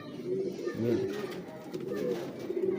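French big breeder high-flyer pigeons from an old line give low throaty coos that rise and fall over a murmur of voices, with one fuller call standing out.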